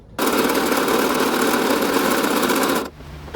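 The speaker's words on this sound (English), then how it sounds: "Actually, I'm going to drill a 1/8 hole first." A power drill bores a 1/8 inch hole, whirring at steady high speed for nearly three seconds, starting and stopping abruptly, close and fairly loud.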